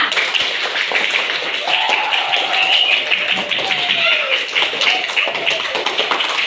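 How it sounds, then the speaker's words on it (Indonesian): Schoolchildren in a classroom applauding their classmates, a dense steady patter of many hands held throughout, with voices calling out over the clapping. "Tepuk tangan untuk kalian semua."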